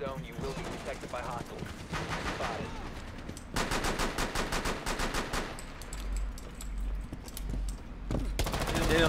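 Rainbow Six Siege gunfire in a video game, bursts of automatic rifle fire with rapid repeated shots and scattered single shots, loud and close, mixed with faint voices from players talking.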